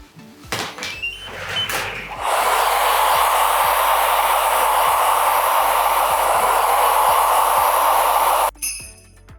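A hair dryer blows steadily on oil-treated, freshly colored hair in a salon, starting after a few clicks and handling sounds and cutting off abruptly near the end; loud and close, with no talk.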